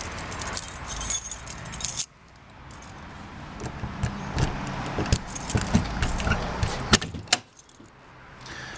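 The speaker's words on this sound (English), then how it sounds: "We're just opening up here for the morning, so let me get this one unlocked." Keys jangle and click in the lock of a 2013 Coachmen Freedom Express 291QBS travel trailer door, a loud close metallic rattle at first, then softer scraping and clicks as the lock turns.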